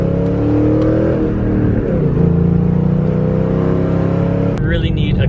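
A 3V engine with a ghost cam tune idles close by, a loud, lopey rumble that holds steady for several seconds before a sharp click and a change near the end, with a voice under it.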